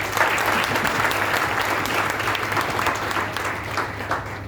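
Loud, sustained applause from an audience at a Hindi-language talk fills the whole stretch as an even, dense wash of clapping with no pause.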